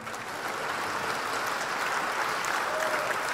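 Audience at a software testing tech talk giving warm applause as a speaker is introduced, dense continuous clapping throughout with no speech.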